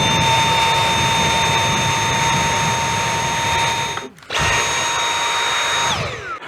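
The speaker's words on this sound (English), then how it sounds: "I have my little vacuum cleaner here and a brush" A small vacuum cleaner runs loudly with a high steady whine while cleaning a vintage Hacker RV20 radio, cuts out briefly, starts again, then winds down.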